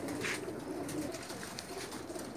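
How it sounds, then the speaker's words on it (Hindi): Pigeons coo softly and continuously, a low murmuring of several birds kept by a pigeon fancier, heard fairly faint and close with no talk over it. "इनके पास कबूतर भी लाजवाब हैं"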